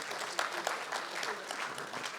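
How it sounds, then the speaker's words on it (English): An audience at an engineering society lecture applauds the lecturer, a dense steady wash of many hands clapping throughout. "Please, a round of applause for him again."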